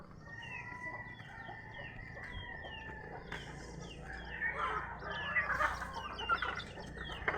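Chickens in a backyard coop planted with fruit, repeated close clucking and squawking calls that grow busier and louder toward the end, no talking.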